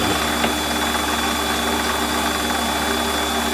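A drill bores into a fire piston workpiece with its plain shank past the flutes, producing a continuous, even mechanical drone with a faint rattling texture, close and steady, without speech.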